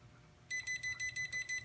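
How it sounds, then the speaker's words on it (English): A self-leveling 360-degree laser level sounds its out-of-level alarm: after a quiet start, a rapid series of about seven evenly spaced, shrill electronic beeps rings out close by and alone. "the alarm feature that it has to show you how it behaves if it goes out of level"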